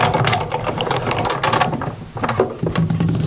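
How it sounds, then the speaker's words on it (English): A Big Shot die-cutting machine is cranked by hand, producing a continuous loud ratcheting, grinding mechanical rumble with rhythmic clicks as the plates roll through, with no voices. "bring in my wonderful Big Shot machine"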